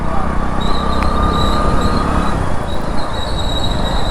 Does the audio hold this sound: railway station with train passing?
yes